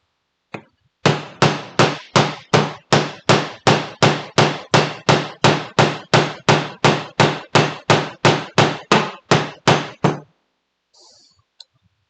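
A hammer strikes a nail into wood in a fast, even series of about twenty-five sharp, loud, close blows, each ringing briefly. The nail is bending, and some blows hit the wood. The strikes stop abruptly, followed by faint shuffling.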